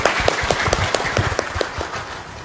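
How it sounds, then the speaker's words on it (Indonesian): Audience clapping for a governor and a regional secretary at a housing-loan outreach event for contractors, a steady mass of applause with distinct sharp claps standing out, loud and close across the whole moment. "Tepuk tangan buat Pak Gubernur dan Pak Sekda."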